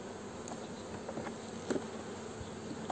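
A faint, steady buzz of honeybees at an opened hive during a February check hums close by, with a few soft clicks and knocks over it and no voices.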